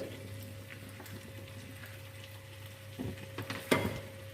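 Boiled eggs go into a pan of fried potatoes over a faint, low sizzle and steady hum, followed by a few soft knocks and clacks near the end, with no voices.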